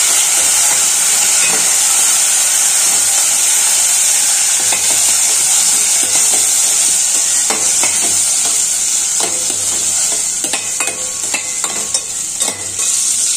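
Curry leaves, coriander and dried red chillies frying in a pan, a loud, steady sizzle and hiss with occasional stirring scrapes and crackles close by.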